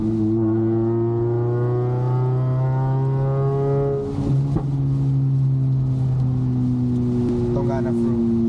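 A catless Toyota Camry engine drones loudly with steady harmonics, then blips and revs on a downshift midway before settling back into a sustained hum, with wind and rain-wet road noise underneath.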